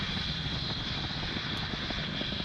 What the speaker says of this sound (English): At the point of max Q, we throttle the Merlin 1D engines down briefly to reduce the loads on the vehicle.